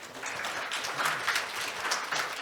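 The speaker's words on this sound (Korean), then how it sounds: "큰 박수 부탁드립니다." Audience at a business forum session applauds in a steady wash of clapping that holds for the whole stretch, moderately distant in a large hall, with no voices over it.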